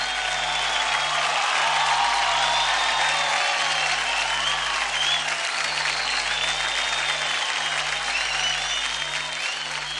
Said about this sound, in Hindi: जरा जोरदार तालियां हो जाए मनोज के लिए।